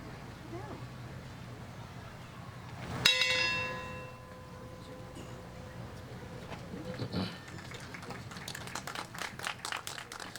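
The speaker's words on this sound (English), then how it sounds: "ring the next bell" One clear bell strike rings out at an outdoor civic Let Freedom Ring ceremony, its bright tone hanging and slowly fading over a soft murmur of the gathered crowd.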